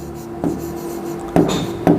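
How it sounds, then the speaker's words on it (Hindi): Marker or chalk strokes on a classroom board while an equation is written, three short scratchy bursts separated by quieter pauses, close and fairly loud. "तो मैं यहाँ लिखता हूँ"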